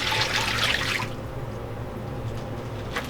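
Water pours into a pot for a batch of peanut butter filled ribbon candy, a brief bright splashing rush in the first second that fades to a low steady trickle and background hum, with no talking.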